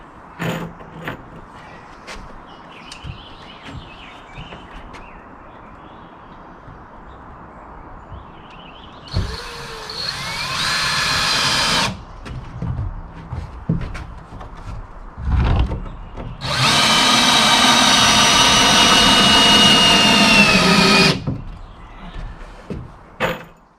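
A power drill drives screws into a shed wall during workshop assembly, in two loud sustained whirring runs, the second longer, with handling knocks and a thump between them, close up.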